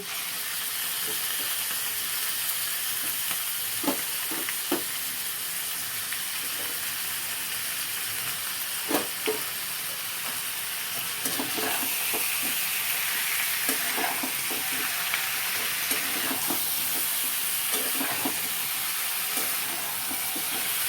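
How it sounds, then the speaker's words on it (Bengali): Chicken pieces frying in a pan with vegetables for a stew, a bright steady sizzle and hiss punctuated by intermittent spoon scrapes and taps, heard alone without talk. "তার আগে আমি চিকেনগুলো এর সাথে দিয়ে একটু ভাজা ভাজা করে নেব।"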